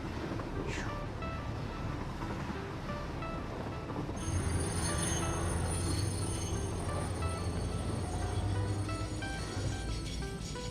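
Train running on rails in the factory-building game Satisfactory, a continuous rumbling roll that grows louder partway through, with a steady hum and rattling over a dense low-end wash.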